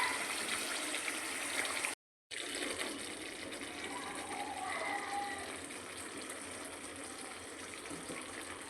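Palak chicken simmering gently in a covered pot over low gas, giving a steady watery bubbling hiss that drops out briefly before carrying on evenly, with no talking.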